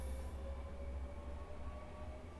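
A train in a train simulator game rolls along on elevated track toward Chatham, giving a steady low rumble with a faint sustained whine, alone and unbroken.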